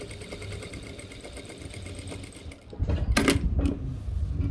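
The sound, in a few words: sewing machine stitching cargo pants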